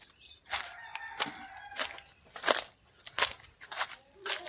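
Chickens on a farm in the Ratnagiri mango orchards of Konkan cluck and call in short, sharp bursts, fairly close and irregular, over a quiet background.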